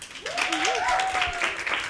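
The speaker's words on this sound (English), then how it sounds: "I thought I'd hear a round of applause." An audience at a Miss Teen Botswana pageantry seminar applauds in a steady patter of clapping, with a high whistle or whoop rising over it and voices mixed in.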